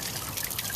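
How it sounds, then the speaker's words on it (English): Water trickles and splashes steadily from a garden pond fountain set among chip rock and river stones, a close, continuous babbling pour with no talking. "we got the pond with a fountain"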